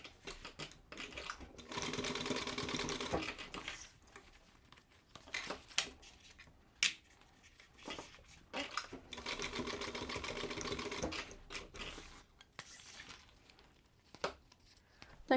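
A sewing machine stitches grab tabs onto a duffel bag panel, running in two sustained bursts of fast mechanical whirring separated by pauses with handling clicks and fabric rustles.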